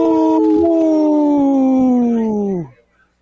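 A wolf gives one long, loud howl with several voices blended, the pitch sliding slowly downward before cutting off abruptly near the end, followed by brief quiet.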